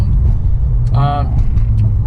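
A BMW M3 running a boot mode tune rumbles with a low, steady exhaust burble, while someone talks briefly over it.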